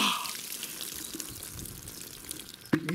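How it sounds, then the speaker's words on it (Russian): Bucket of water poured over a person: a steady splashing rush of water falling onto a body and the floor, with drips and a sharp splash near the end, close by and moderately loud. "берете это ведро воды и выливаете на себя"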